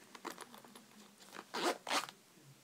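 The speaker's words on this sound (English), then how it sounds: "And then if you zip down this," A zipper being pulled open on a purse, first in several short quiet tugs, then two longer, louder rasping pulls close by, with no talk.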